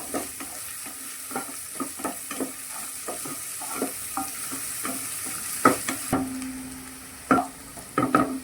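Onions frying with curry leaves in oil until browned, for a green chicken masala: a steady close sizzle broken by frequent clinks and scrapes of a spoon stirring the pan, with no voices.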